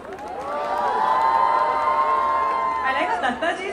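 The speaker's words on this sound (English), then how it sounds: "I like how Dattaji is cheering for me right there." An audience at a college fest promotion event cheers and whoops continuously, with many voices shouting together in a loud, sustained roar that rises and falls over several seconds.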